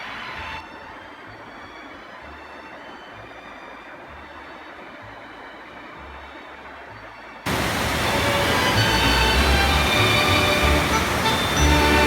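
Two powerful waterfalls in Switzerland's Lauterbrunnen Valley send out a steady, broad rushing roar with no pauses. It grows noticeably louder and fuller about two-thirds of the way through.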